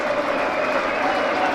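Cricket crowd at Trent Bridge gives brief ironic cheers and applause during a Notts Outlaws versus Birmingham Bears match, a steady distant wash of clapping and murmur under a commentator's voice.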